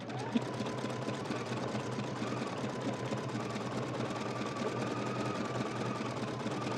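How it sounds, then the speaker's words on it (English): Embroidery machine stitching a design for a faux leather crossbody bag, a fast, even mechanical whirring hum that runs steadily and close without pause. "let's go ahead, press start, stop, and we'll just get started embroidering."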